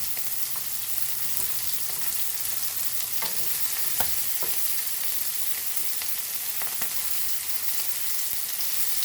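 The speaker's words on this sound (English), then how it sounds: "Fry it both the sides. So let's flip flop this the other side." Bombay duck fish fries in a pan, a steady close hiss of hot oil with scattered clicks and scrapes as the pieces are turned over, no talking.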